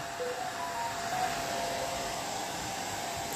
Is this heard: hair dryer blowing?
yes